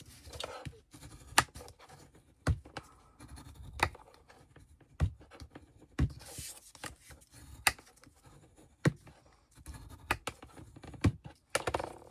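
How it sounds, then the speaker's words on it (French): Fold lines being scored into paper for a scrapbook advent calendar: close, dry scratching strokes and sharp taps come in an irregular series, with quiet pauses between them. "je vais marquer tous les plis"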